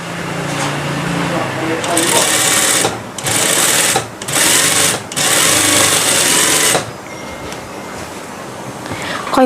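Sewing machine stitching a fabric hem in several loud, close runs of rapid stitching, split by short pauses, then settling into quieter handling.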